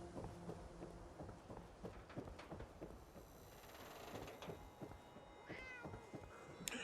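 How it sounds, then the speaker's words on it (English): A cat meows a few times inside the video game Fallout 4, faint and somewhat distant amid a busy bed of game ambience, clatter and soft thuds. "Where do I hear a kitty?"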